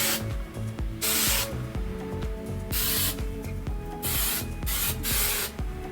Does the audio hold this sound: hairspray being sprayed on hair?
yes